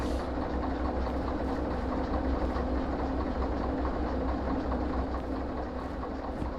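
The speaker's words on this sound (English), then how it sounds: "start slowing the loco down" A locomotive in the Derail Valley train game rumbles heavily along the rails while braking to slow down, a dense, continuous low drone that eases slightly toward the end, with no talking.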